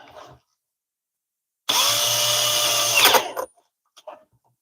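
A power drill whirs loudly for about two seconds, its pitch dipping as it bites in, then winds down and stops.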